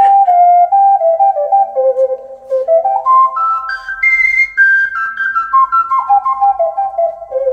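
An ocarina playing a clear, pure-toned melody through a wireless microphone and speaker, smooth flowing notes rising and falling, loud and close with no speech.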